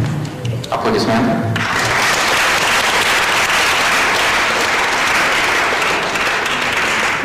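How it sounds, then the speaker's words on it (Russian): Dense, sustained audience applause rises sharply after a brief opening moment and holds loud and steady to the end, filling the room at an acoustic performance. "Аплодисменты."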